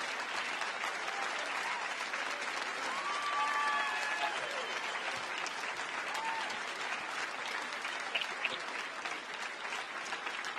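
A crowd applauds in a steady, dense wash of clapping, with a few brief whistles or cheers rising above it, kept at an even level from start to finish.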